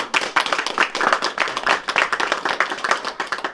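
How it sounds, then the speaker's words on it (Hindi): Crowd in a village welcoming home a young woman wrestler who won silver at Khelo India, clapping loudly with quick, uneven handclaps filling the clip. "तालियां"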